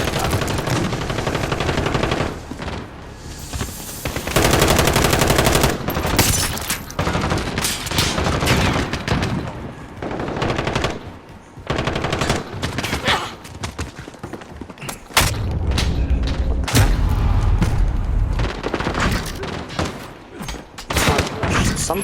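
Rapid automatic gunfire and bursts of shots from Call of Duty Modern Warfare, loud and near, with heavy thumps and booms continuing almost without pause through the whole stretch.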